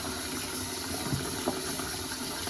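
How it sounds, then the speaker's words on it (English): Hot water sprays into a Le Creuset Dutch oven as a steady, dense rushing hiss that stays even and close for the whole stretch, with a faint thump of water hitting the pot and no talking. "I'm going to get some really hot water going here and just spray around"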